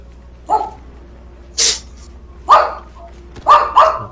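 A dog in the video game Gears 5 barks in four sharp, separate bursts, loud and close, with no talk over it.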